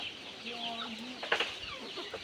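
Native chickens kept on a rural farm cluck in a loose chorus at a distance, faint and scattered, with a couple of sharper calls standing out partway through.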